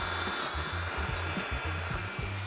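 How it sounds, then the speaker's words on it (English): Counterbore bit cutting through a Trex composite deck board, a high whining drill with rapid pulsing bursts as the bit bites in, close and continuous throughout, with no talking. "We're then going to take our counterbore tool, and this cuts a hole through the board"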